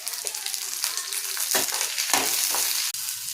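Loud, close sizzling and frying of tomato in a pan, with the scrape of a utensil stirring the food a few times.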